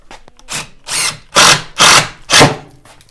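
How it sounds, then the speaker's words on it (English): Cordless power drill driving a screw through drywall into a wooden stud: five short motor whirs in a stop-start rhythm, growing louder and longer toward the end, close up with no talking. "You just want to drill the screw into the stud like this and drill it in as far as you can"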